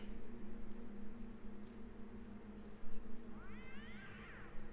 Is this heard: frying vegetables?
no